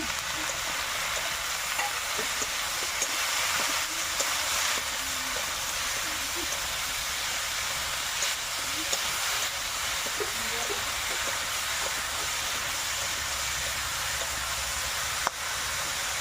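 Cauliflower and saipan fish frying in a pan with salt and turmeric, a dense, continuous sizzle running steadily throughout, close and fairly loud, with occasional faint clinks.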